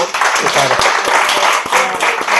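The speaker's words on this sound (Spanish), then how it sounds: "le damos un aplauso a Rosario" An audience applauds at a talk event, with dense clapping running throughout while a voice speaks over it.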